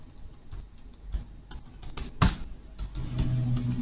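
A computer keyboard is typed on in a run of quick, irregular, close key clicks, with one louder tap near the middle and a faint hum underneath.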